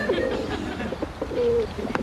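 Pigeons or doves cooing on a map in Counter-Strike: Global Offensive, soft repeated coos over a constant background hum of game ambience.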